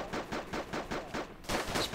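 Rapid bursts of incoming gunfire in the military game Arma 2, a steady rattling run of close, loud automatic shots with a short gap before a denser volley at the end.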